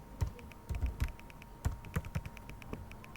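Computer keyboard typing during an accounting software session, a quick run of distinct key clicks, close and clear, with no talking over it.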